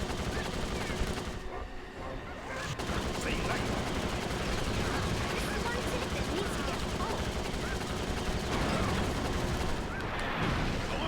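Shooting at a rival racer in the kart game Crash Tag Team Racing, a long run of rapid gunfire with engine noise and game effects, with a voice talking over it.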